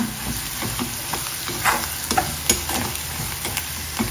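Spices with black pepper sizzling in hot oil for squid masala, stirred with quick scraping strokes, close and steady throughout with no talk.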